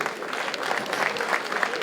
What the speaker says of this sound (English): a round of applause for pick loading